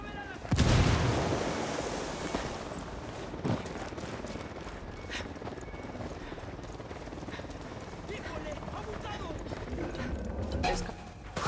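A frag grenade blast followed by gunfire in the Ghost Recon Wildlands video game. A loud explosion comes early, then a dense, continuous wash of distant shots and rumble carries on to the end.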